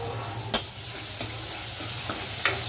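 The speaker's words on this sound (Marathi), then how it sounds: "इसको अच्छे से मिक्स कर लो कांदा ब्राऊन झाला पाहिजे ना" Onions fry in a hot pan with a constant close sizzle while a spoon stirs them, adding a few scraping strokes against the pan.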